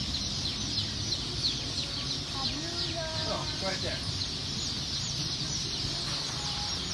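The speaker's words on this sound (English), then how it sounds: "This is a rooster, so they're not gonna lay any eggs" Welsummer rooster giving a few soft clucks among other chickens at a hatchery, faint and brief under a steady background hum, with a person speaking briefly nearby.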